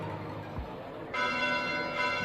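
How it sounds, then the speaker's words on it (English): Church bells ring out at night in Fire Emblem: Three Houses, starting with a low thud and then swelling into a bright, sustained peal of layered tolling that grows louder partway through. "Bells? This late at night?"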